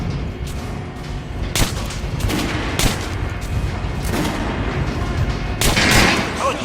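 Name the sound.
gunshot at a training dummy in the video game Metro Last Light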